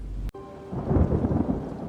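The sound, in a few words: thunderstorm with thunder and rain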